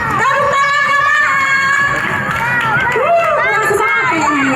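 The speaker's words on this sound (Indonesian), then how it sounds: "Mana ibu-ibu memberikan tepuk tangan sekali untuk memeriahkan acara ini." An outdoor audience at a children's junior roller skating race in Banda Aceh cheers and shouts, with excited children's voices and whoops rising over a busy crowd murmur; loud and close.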